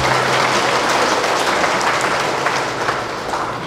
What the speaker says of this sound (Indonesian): Saya kira tepuk tangan untuk kita berarti.